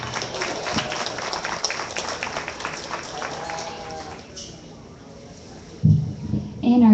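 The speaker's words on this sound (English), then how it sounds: "Let's give these three young men a round of applause." Audience applause and scattered clapping at an evening sheep show at a county fair, rising and fading over crowd murmur and a voice over the loudspeaker, then easing off before a brief louder burst near the end.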